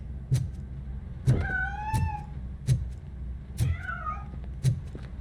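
In the video game RoboCop: Rogue City, a cat escaping gives two drawn-out, rising meows between regular soft thumping footfalls, close and clear with no talk.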